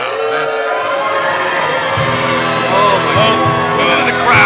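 A live crowd at a UWA Elite Gold Rush 2023 wrestling show roars and cheers continuously, with the noise swelling louder toward the end amid scattered shouts.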